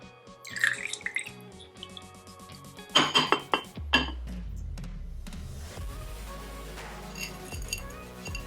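Homemade perfume poured into small containers gives glassy clinks and taps, a brief trickle and drips, then a low rumble and faint clatter, close up with no talking.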